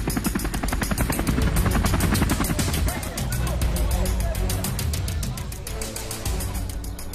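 A helicopter flies overhead during a large manhunt in Washington State, its loud, steady rotor chop pulsing rapidly and continuously, with a voice speaking over it.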